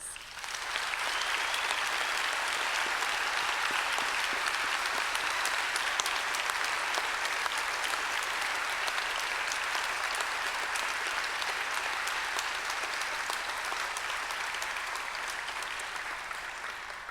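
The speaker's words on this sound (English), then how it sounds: "I would ask you now to take this opportunity to show them your appreciation by a round of applause" A large graduation audience applauds steadily and loudly, a dense unbroken wash of clapping that holds for the whole stretch before easing slightly at the end, with no voices over it.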